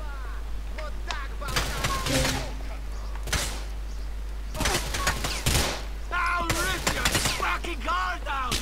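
Gunfire in Grand Theft Auto IV: several loud, sharp gunshot bursts crack out in uneven clusters across a busy in-game shootout, with voices and other game noise underneath.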